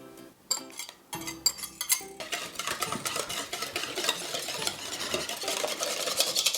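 A whisk beats milk with cornstarch and egg yolks in a bowl for Dutch custard, starting with a few separate clinks, then settling into a rapid, steady rhythmic clatter of metal on the bowl, close and without talk.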